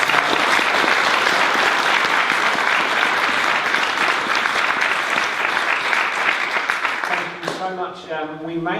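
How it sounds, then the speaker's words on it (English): Forum audience clapping for a panel on food poverty, sustained loud applause that fades after about seven seconds as a voice begins speaking. "let's have a round of applause, please, for our panel"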